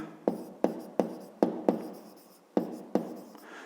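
Pen or chalk strokes of handwritten numbers during a fifth-grade math lesson, a series of sharp, close taps and scratches in an uneven rhythm, each stroke fading quickly, with no voices.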